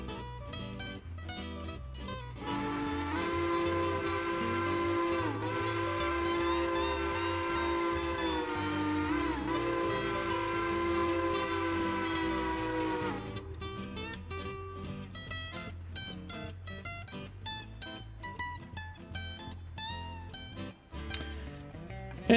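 Train engine at full speed in the game Railroader, a steady loud mechanical drone with sustained tonal hum and a brief whistle-like tone, continuous throughout and close, ending in a sharper clack.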